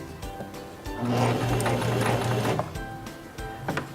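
A Singer Talent 3323 portable sewing machine sews backwards in reverse, making a close, steady mechanical whir and rapid needle chatter for a couple of seconds, with fabric handling clicks before and after.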